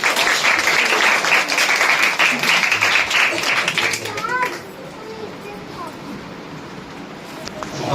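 Loud applause from an audience at a Jain temple school event, dense clapping that fades after about four seconds into quieter room noise with scattered claps and soft voices.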